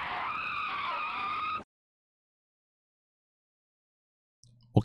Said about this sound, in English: a car, ignoring the red light, kept driving and almost hit Sakura